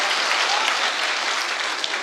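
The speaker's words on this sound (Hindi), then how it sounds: "आप लोग अगर तालियां बजा रहे हैं तो मिलके बजाते हैं एक बार अब्बास साहब के लिए।" Applause from an audience at a poetry recital, a dense steady clatter of many hands clapping together for about two seconds, close and fairly loud, with no voices on top.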